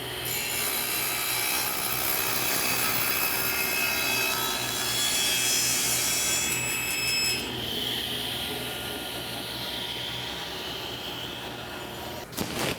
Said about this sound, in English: I want to actually cut these ends off nice and square